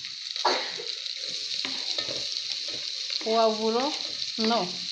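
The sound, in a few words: spices, leek and celery frying in a pan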